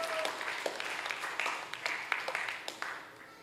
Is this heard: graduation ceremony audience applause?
yes